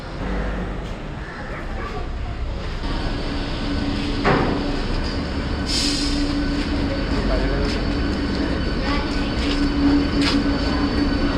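A Mumbai local train arrives at Andheri station, its steady rumble filling the platform with a brief high squeal and clatter, while voices talk nearby throughout.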